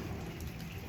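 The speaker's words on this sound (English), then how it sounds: "Can you hear the rain? I love the sound of rain" Steady rain falls outside, a dense, even hiss of drops with no breaks, heard close and alone.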